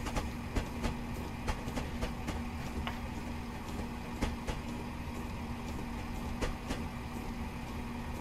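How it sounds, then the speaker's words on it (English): Train running in Train Sim Classic on the Fife Circle Line, a steady low rumble with a constant hum and irregular sharp clicks and clacks from the wheels, fairly close and continuous with no talk. "Trains waiting to enter the station."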